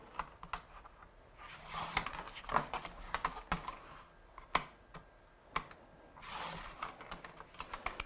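Paper trimmer or scissors cutting card stock for a small Christmas card, a series of close, sharp slicing clicks and snips with brief rustling swishes in between, no voices.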